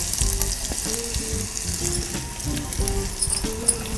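Mango pieces hit a hot tempering of green and dried red chilies, curry leaves and asafoetida, giving a steady close sizzle and crackle beneath a tonal background with distinct melodic notes, no talk.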